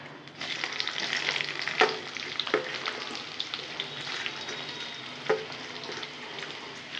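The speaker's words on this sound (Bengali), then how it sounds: "আমি এখানে পেঁয়াজগুলো ভেজে নেব।" Onions fry in hot oil in a pan for a Bengali fish curry, a close, steady crackling sizzle with a few sharp stirring scrapes and no talk.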